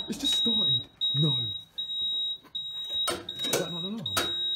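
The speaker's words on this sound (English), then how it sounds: "Is that not an alarm?" Smoke alarm with a low battery emitting a high, thin steady beep tone that sounds repeatedly through the scene inside an abandoned house, while people talk over it.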